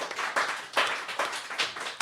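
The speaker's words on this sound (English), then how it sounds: "Let Steve hear your applause." Live audience applause at a small evening gathering at A Gathering of Tribes, dense overlapping claps swelling in repeated waves, close and steady with no voices on top.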